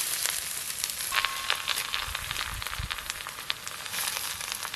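Susni greens frying in a pan with onion and dried chili give a steady, close sizzle full of fine crackles and small pops, with no one speaking.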